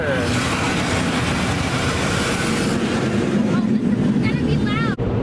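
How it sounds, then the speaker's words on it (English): Loud, dense rushing spray and blowing noise from an automatic car wash washing a truck fills the clip, continuous and close, with a voice briefly audible over it. "It's the car wash."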